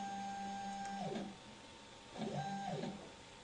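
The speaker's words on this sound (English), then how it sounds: "Sample stage and needles are moving automatically." Automated motors of a contact angle measuring instrument drive the sample stage and needles, giving two faint whirring runs with steady tones that slide down as each movement ends, separated by a quiet pause.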